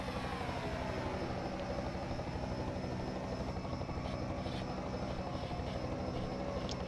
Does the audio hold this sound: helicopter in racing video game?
yes